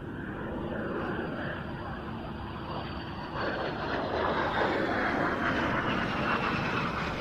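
A de Havilland Vampire straight-wing jet flies past at an airshow, its broad steady engine roar growing slightly louder midway and continuing throughout.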